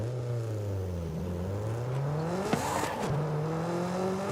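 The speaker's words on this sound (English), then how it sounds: "we put a turbo in here. That's why it makes all these cool sounds and more power" A turbocharged car engine in Forza Horizon 5 revs and shifts steadily with rising and falling tones, with a turbo whoosh and a brief flutter midway. It is loud and continuous, with no talking.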